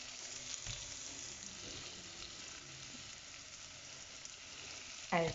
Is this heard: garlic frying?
yes